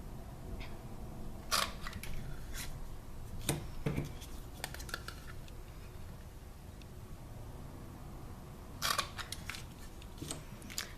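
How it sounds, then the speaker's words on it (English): Sharp clicks of a banner triple punch cutting through paper strips for card making, a few isolated snaps spread over a quiet room hum, close and without talk. "you'll want to punch the banner triple punch"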